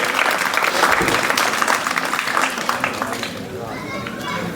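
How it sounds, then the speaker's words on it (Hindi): Loud, sustained applause from an audience welcoming a guest onto the stage at a school ceremony honouring topper students, dense clapping throughout that eases slightly toward the end, with crowd chatter mixed in. "जोरदार तालियों से स्वागत किया जाए"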